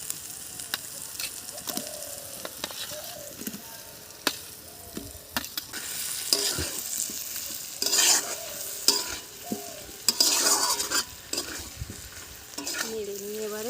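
Potatoes tumble into a pan of fried spices for a snakehead fish curry and get stirred, giving scraping spoon strokes and soft intermittent sizzling up close, with a few louder clanks near the end.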